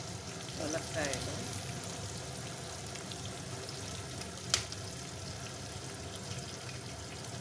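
Potatoes, onion pieces and drumsticks fry in a pan for sambar, giving a faint, steady sizzle with watery crackle and a single sharp clink partway through.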